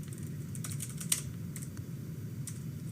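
Typing a terminal command on a computer keyboard, a quick irregular patter of soft key clicks under a low steady hum, faint and close.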